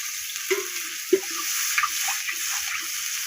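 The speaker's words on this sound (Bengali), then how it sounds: "আলুটা দিয়ে দিলাম আলুটা কষাবো" Potatoes sizzle steadily in a hot pan while a utensil scrapes and knocks a few times as they are stirred.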